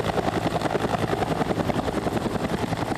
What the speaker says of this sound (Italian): L'elicottero del 4° reggimento Aves Alter di Bolzano è atterrato a Campomarzo